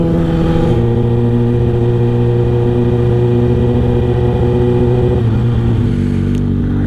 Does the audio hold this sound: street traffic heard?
yes